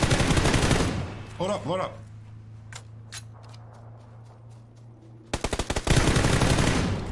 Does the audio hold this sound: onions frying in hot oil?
no